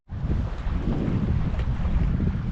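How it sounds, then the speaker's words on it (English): Strong wind buffeting a fishing boat out on rough sea, a loud continuous roar and rumble against the microphone with no voices. "Boy, the wind is way off of what it's supposed to be."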